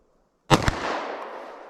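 A single handgun shot fired into ballistic gel during a controlled pair at the center, a sharp loud bang with a quick second report, followed by a long fading echo.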